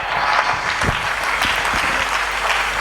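A church congregation applauding during a Sunday service, a dense, steady wash of clapping from many hands that carries evenly through the moment.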